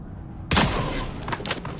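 Pistol shots in the video game Dune Awakening: a sharp, loud report at onset followed by a few more cracks, with no talking.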